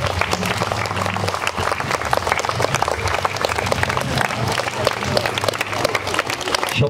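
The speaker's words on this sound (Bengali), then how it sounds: "করো হাততালি আশা করছি" Audience applause at a school cultural program, a dense, steady wash of many hands clapping throughout, loud and close, with crowd murmur underneath.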